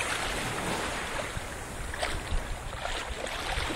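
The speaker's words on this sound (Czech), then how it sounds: "vlnky" Small waves washing onto the beach at Varadero, Cuba: a soft continuous wash with gentle surges, moderately near and fairly quiet, with no voices.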